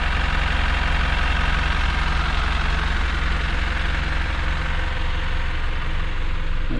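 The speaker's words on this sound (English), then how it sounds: "It's fitted with a Euro 6 Mercedes-Benz OM934 engine." A Euro 6 Mercedes-Benz OM934 diesel in a 9.25-metre Optare Solo SR bus idles steadily, a low continuous rumble with a constant hum and no talk over it.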